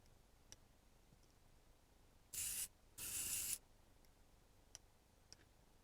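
Two short, loud hisses of an aerosol texture spray aimed at hair, close to the mic, with the second burst a little longer, alone in a quiet room with faint ticks.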